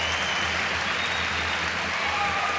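A stadium audience applauds a karate kata performance at the Karate World Cup finals, dense continuous clapping from a large crowd, loud and sustained throughout.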